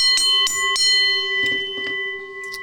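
A bright, ringing bell is struck in several quick, close taps at the start, then a few lighter strikes follow, each leaving a clear, sustained metallic tone that lingers between hits.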